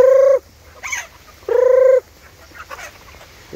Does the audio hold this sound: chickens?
yes